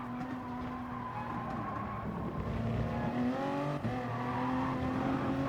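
Toyota GR Supra Gr.3 race car in Gran Turismo at Interlagos sliding under early throttle: a sustained engine whine whose pitch climbs and shifts, with a rough tyre-scrub edge, steady and moderately loud.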